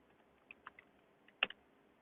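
A few sparse, soft keystrokes tap on a computer keyboard as a username and password are entered, quiet and close with gaps between presses.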